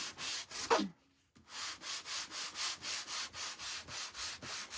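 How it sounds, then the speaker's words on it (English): Rhythmic scratchy strokes of a sanding block on wood, close up, a short pause after the first few, then steady back-and-forth rubbing. "Now we're going to go in with our sanding block."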